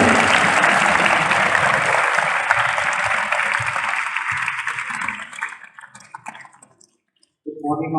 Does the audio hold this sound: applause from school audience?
yes